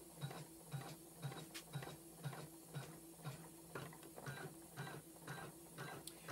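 A sewing machine stitches a shadow trapunto quilt with a quiet, even mechanical chatter. The rhythmic pulses repeat a few times per second, close and alone.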